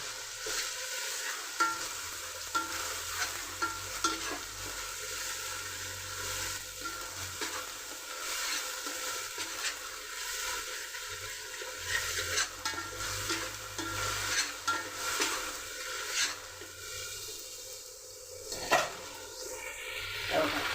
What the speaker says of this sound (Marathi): कांदा, खोबरं, आलं, लसूण वाटून घेतलेला मसाला आहे. तापलेला आहे.